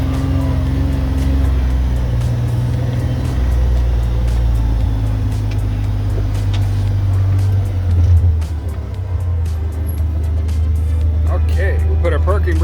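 A car underway gives a steady, loud low engine drone and road hum from inside the cabin, settling slightly near the end as it slows, with a voice briefly audible.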